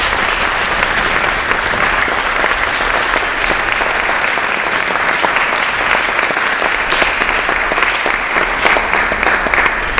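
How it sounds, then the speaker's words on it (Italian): A seminar audience in Pescara breaks into dense, continuous applause, many hands clapping at once, loud and sustained for the whole stretch. "meriti veramente un applauso da tutti voi"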